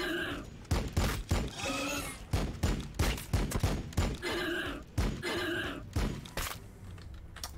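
Heavy bolter fire from a land speeder in Warhammer 40,000: Battlesector roars in dense, repeated bursts of rapid gunfire. The volleys are loud and close, separated by short pauses, and there is no talk over them.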